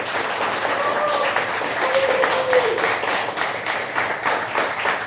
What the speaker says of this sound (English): I'd just like a huge round of applause to the entire staff